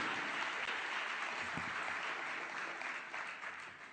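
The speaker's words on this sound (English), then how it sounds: "Let's give them all a great round of applause, everybody." A congregation gives pastors a long round of applause at a church gathering, dense continuous clapping that fills the room and eases slightly toward the end.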